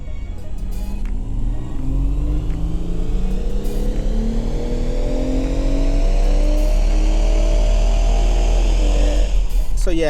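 BMW M140i engine pulling hard on a dyno power run, a loud continuous roar climbing steadily in pitch through the gears for about nine seconds before backing off abruptly at the end.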